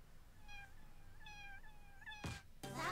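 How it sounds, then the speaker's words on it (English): Cartoon cat meows from the WarioWare: Move It video game, three rising-falling mewing calls in a row, followed by two loud bursts of game sound effects at the end. "Find the cat."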